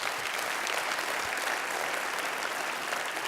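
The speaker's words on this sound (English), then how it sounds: "So can we give all of the sponsors a round of applause as well?" A conference audience applauding the event sponsors, dense steady clapping from a large crowd in a hall, sustained and even throughout with no talking.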